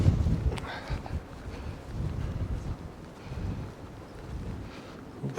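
Gusty wind in Lerwick, Shetland buffets the microphone with low, rumbling, uneven blasts that rise and fall throughout, fairly faint and with no other clear sounds.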